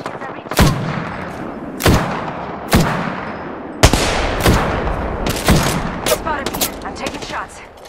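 Gunfire from Apex Legends in a battle royale match, with sharp, loud shots arriving in bursts roughly every second, one set of rapid cracks near the end over steady game ambience.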